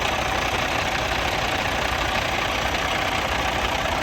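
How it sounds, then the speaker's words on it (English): A 2019 Kenworth W900L daycab's Cummins X15 500 diesel engine idles close by, a loud, steady, rough drone with constant texture and no talk over it. "So this is an X15 500 Cummins."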